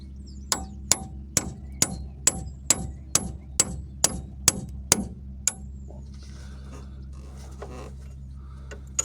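About a dozen evenly spaced, sharp metallic hammer blows ring out close up during differential seal repair on a DS 3 car, then the pounding stops and only faint shop noise remains over a low steady hum.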